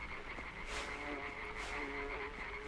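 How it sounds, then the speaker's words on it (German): A fly buzzes in the side-scrolling game Limbo as a thin, steady droning hum, faint and continuous over soft ambient background with no speech. "Oh nein, ich höre eine Fliege."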